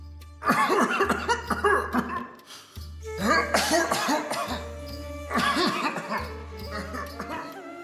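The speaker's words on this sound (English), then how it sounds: "King Dasharatha's cough did not subside." Repeated bursts of harsh coughing, close and loud, come in three clusters separated by short pauses, with low tones humming underneath.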